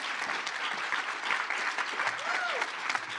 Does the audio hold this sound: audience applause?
yes